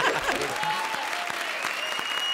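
Studio audience at a comedy show clapping continuously, a dense even burst of applause with some voices mixed in.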